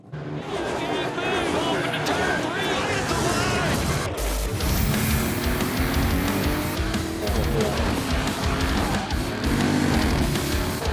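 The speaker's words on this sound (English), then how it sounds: "we'll send the cars out on their formation lap" GT race cars heading out on their formation lap at the SCCA National Championship Runoffs, engines droning and revving continuously at close range, mixed with other broadcast sound and talk.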